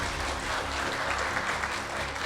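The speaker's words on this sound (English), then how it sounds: "the signing ceremony between ICBC and Quantum Metal is successfully completed. Can you give a round of applause again?" Audience applause fills the room after a signing ceremony between ICBC bank and Quantum Metal in Malaysia, a steady, dense clapping that holds evenly throughout with no voices over it.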